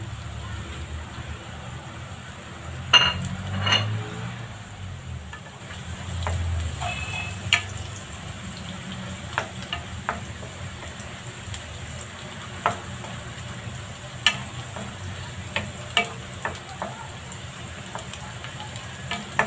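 Garlic and onion fry in a pan for vegetable bean sprout lumpia, a steady low sizzle with scattered sharp ticks and scrapes of stirring, fairly close.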